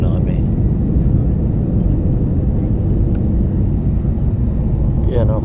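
A Cebu Pacific airliner descending toward Panglao International Airport, heard from inside the cabin as a loud, steady engine roar and rumble that continues without a break.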